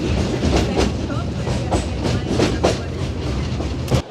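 A sightseeing train at Iguazu Falls rolls along with steady rumbling and rhythmic clicks of wheels on the track, close and loud, with voices talking over it.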